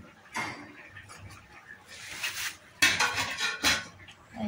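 Fried fish being mashed in a metal pot for a village-style fish curry, producing scattered scraping and clinking knocks of utensil on metal, faint with bursts of louder scrapes in the second half.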